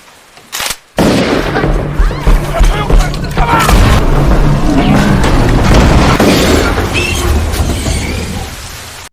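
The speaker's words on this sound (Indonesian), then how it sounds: "Mereka langsung nembak sampai peluru habis" Sustained gunfire in a monster film scene, people shooting until their ammunition runs out: a loud, dense barrage of overlapping booming shots that follows a brief sharp burst and carries on nearly to the end.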